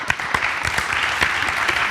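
Audience applause during a live interview programme, dense close clapping sustained without pause.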